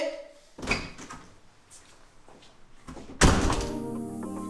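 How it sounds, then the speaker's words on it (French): A door is slammed on a film set, with a dull thud early on and then a louder, sharper bang near the end, amid low room noise and shuffling. "Tu sors et tu claques la porte."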